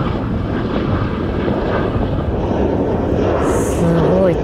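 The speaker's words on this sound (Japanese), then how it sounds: "すごい、次々飛行機が飛んできます。" An airplane passes near an airport, producing a loud, steady, broadband engine roar with wind buffeting close to the microphone.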